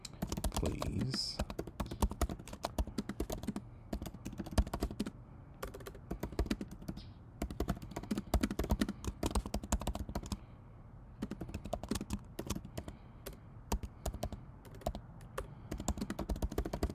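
Fingers type on a computer keyboard close by, a rapid clatter of key clicks in fast runs broken by brief pauses.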